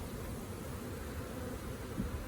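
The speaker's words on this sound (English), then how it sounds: "So now we have a box full of bees" Small honeybee swarm shaken from a branch into a box, giving a dense, steady buzz that is faint and continuous with no voices.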